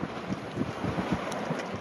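Wind buffets the microphone aboard a Varianta 65 sailboat running downwind, a gusty broadband rush with repeated low thumps and swells of noise, fairly close and continuous, with no talking.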